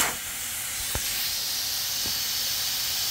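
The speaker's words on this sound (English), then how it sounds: "so I'm gonna open the valve" Air hissing steadily out through an opened tire valve as a MORRFlate automatic air hub deflates a vehicle tire, a continuous close hiss with a couple of faint clicks.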